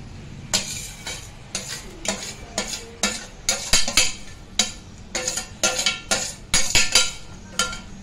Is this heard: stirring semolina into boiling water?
yes